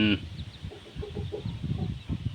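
Small crossbred chicks, a cross between a Gosem-line rooster and a breeding hen, peep and chirp in short, busy bursts close by, with a low clucking murmur mixed underneath throughout.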